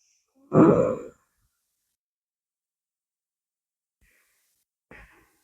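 A single strong breath in through both nostrils with the mouth closed, close and breathy, followed by silence and a second much fainter, shorter breath near the end.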